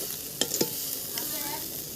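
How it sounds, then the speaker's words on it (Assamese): A local egg frying in hot oil over a wood fire makes a continuous crackling sizzle, with a couple of sharp spatter pops early on. "ডিমটো দি একদম পূৰা ভাজিব লাগিব।"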